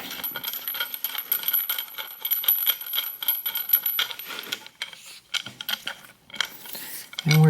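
Metallic clinks and ratcheting clatter from loosening a bolt on a sliding table leg for a workstation, busy and close with jingling hardware throughout and a brief louder thump at the end.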